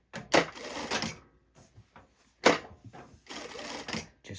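Bridgesew R6S sewing machine running in short bursts: brief close mechanical whirring runs with clicking stops between them, as with the presser foot lifting after each stop.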